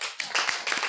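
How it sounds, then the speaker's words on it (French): A church congregation applauding during a sermon, a brief burst of dense hand clapping heard up close. "Applaudissez pour le Seigneur."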